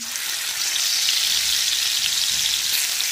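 Onion paste frying in hot white oil in a wok for egg biryani, giving a dense, continuous hiss and crackle that stays even and close throughout, with no voices.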